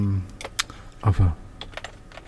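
Quick, close bursts of typing on a computer keyboard, with a voice talking over the clicks partway through.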